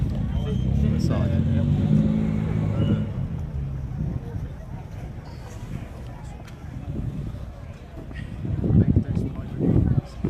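Mini Miglia race cars are pulled in and lined up at Silverstone, a low engine rumble and wind noise running beneath someone talking close to the microphone.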